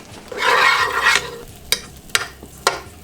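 Garlic butter melting in a pot gives a close burst of hissing sizzle, followed by a few sharp clinks and scrapes of stirring.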